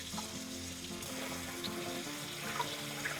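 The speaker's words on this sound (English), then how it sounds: "I'm going to rinse it in cold water to cool the macaroni off" Cold water runs from a tap over cooked macaroni in a strainer, a steady hiss and patter of flowing water lasting a few seconds at moderate loudness with no talk.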